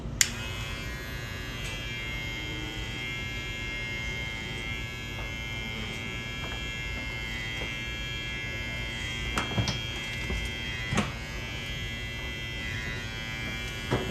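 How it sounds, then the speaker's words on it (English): An electric hair clipper buzzes steadily while cutting hair over a comb, a close, even motor drone with small clicks and brief changes as the blade moves through the hair. "you want that clipper to go over the comb"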